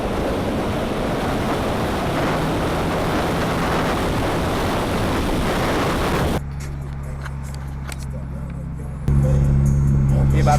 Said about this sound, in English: It's a Nissan Skyline.